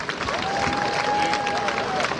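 Big crowd at the Alpini gathering in Vicenza clapping steadily, a dense wash of applause with a constant whistle-like tone running through it.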